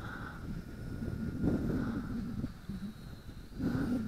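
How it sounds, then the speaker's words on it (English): Wind buffets a hovering UDI U818A camera drone at altitude, a low rumbling roar that swells and fades over a steady faint rotor whine, with no talking. "there's a wind up there"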